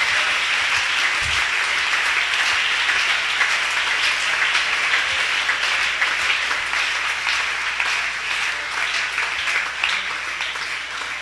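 A church congregation at an evening sermon bursts into spontaneous applause, a dense, steady roar of many hands clapping that holds for the whole stretch and eases only slightly toward the end, with no voices over it.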